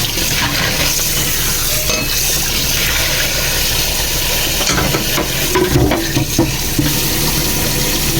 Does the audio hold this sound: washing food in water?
yes